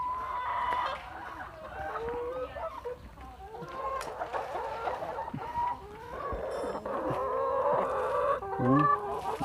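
Several laying hens cluck and chatter continuously nearby, overlapping calls rising and falling, with a louder squawk near the end.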